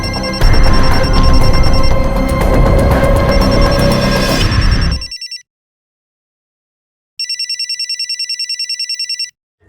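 Mobile phone ringing in a crime drama scene, a repeated electronic ringtone pulsing steadily after loud dramatic music cuts out, close and clear with no talk over it.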